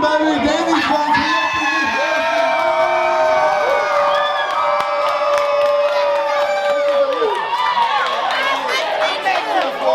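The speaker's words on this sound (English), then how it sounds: "Y'all scream, baby." A crowd at an 18th birthday party with a live band cheers and screams loudly and continuously, voices whooping throughout, with talk mixed into the din.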